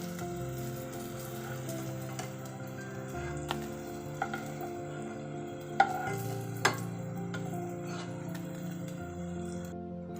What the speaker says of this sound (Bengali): টোফুগুলোকে হালকা ফ্রাই করে নিয়েছি